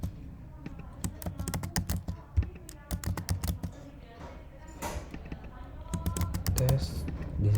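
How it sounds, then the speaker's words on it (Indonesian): A username is typed on a computer keyboard, producing a string of close, irregular key clicks and taps, some quick runs of keystrokes and a few heavier presses. "Kita ketik username-nya"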